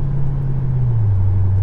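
A steady Mercury Grand Marquis engine hum with the pitch dropping smoothly as the transmission shifts into overdrive, continuous road noise throughout.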